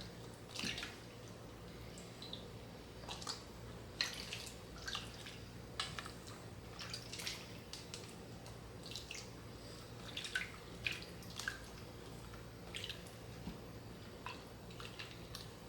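Homemade butter is pressed and massaged by hand in a bowl of cool water, making soft intermittent drips, squelches and small splashes against a quiet background.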